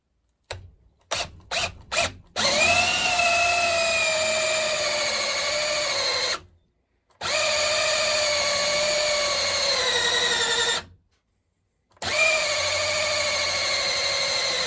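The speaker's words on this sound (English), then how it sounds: "I've got to drill a hole in it so that I can establish how the handle is going to work." A power drill bores a hole into a piece of wet wood for a glut hammer handle: a few short trigger blips, then three long steady whining runs separated by brief pauses, loud and close.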